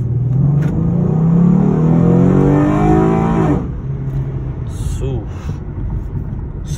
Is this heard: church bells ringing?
no